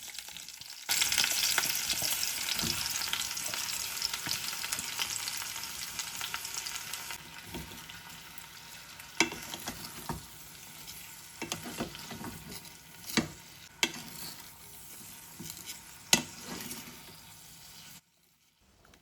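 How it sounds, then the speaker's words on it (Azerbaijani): Onions fry in hot oil in a pot for French onion soup with a loud, steady sizzle, punctuated by occasional clicks and scrapes of wooden-spoon stirring, close up and without voices. "Yağ qızdıqdan sonra soğanları qazana əlavə edirəm."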